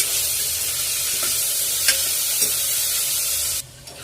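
Onions, curry leaves and tomato frying in a pan for tomato soya rice, a steady loud sizzle with a few soft stirring taps, cutting off abruptly near the end.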